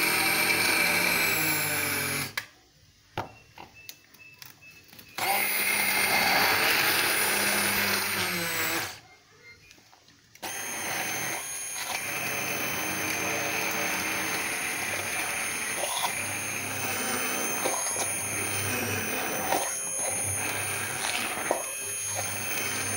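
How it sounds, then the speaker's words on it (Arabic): A hand blender whips white chocolate sauce made from four ingredients, a loud whining buzz that runs in several bursts and cuts out twice before a long steady stretch. "انا دلوقتي هضربها بالهاند بلندر في الشفشق ده"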